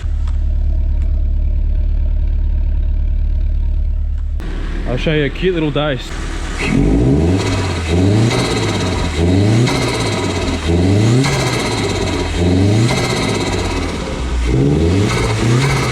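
LS1-powered Nissan Patrol fired up after sitting for months: a speaking voice gives way to the engine catching, then a steady idle broken by repeated rhythmic revs, loud and close.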